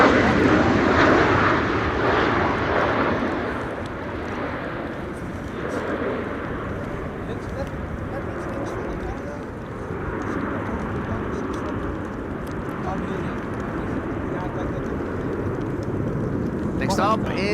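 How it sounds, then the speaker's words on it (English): An Embraer 190 airliner passes at windy Amsterdam Schiphol Airport, a loud, sustained jet roar that fades slightly over time under steady wind, with people talking nearby. "We have an Embraer 190 over here."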